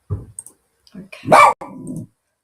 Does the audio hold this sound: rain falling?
no